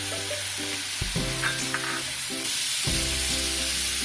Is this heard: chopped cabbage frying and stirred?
yes